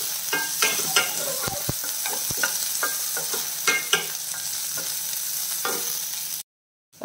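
Small onions and green chillies sauté in a pan for a tomato curry, giving a steady close sizzle broken by the scrape and clink of a stirring spoon, until the sound drops out near the end.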